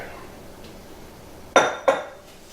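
A spoon clinks twice against a pot while a fudge mixture of extra fine sugar and a pinch of salt is stirred, two sharp close knocks after a quiet stretch.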